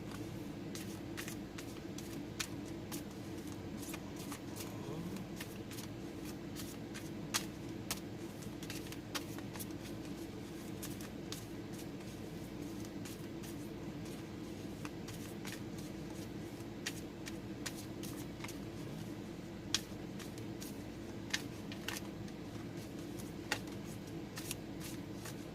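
Archangel oracle cards shuffled by hand, a soft continuous riffle of sliding cards with scattered small snaps and flicks, close and quiet against a low hum, no talking.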